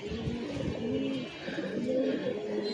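Lively young pigeons coo repeatedly nearby, the low rolling calls coming in short overlapping bursts, with a faint voice in the background.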